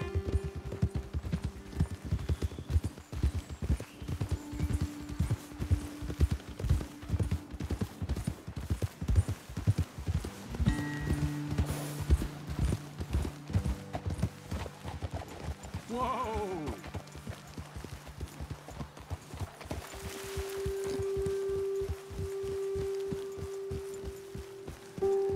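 Horses' hooves clip-clop steadily through the Red Dead Redemption 2 video game, a dense walking rhythm close by for most of the stretch, with a voice speaking over it and some music tones.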